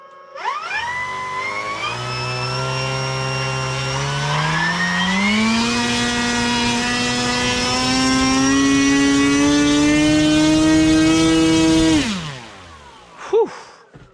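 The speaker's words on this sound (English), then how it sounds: "we're just gonna run it up, and hopefully this motor stays on, doesn't rip right out" An Arrows Husky SE RC plane's electric motor and propeller running up on 6S power, a loud close whine that rises steadily in pitch for about ten seconds, holds, then winds down abruptly.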